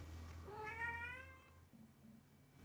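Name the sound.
cat meowing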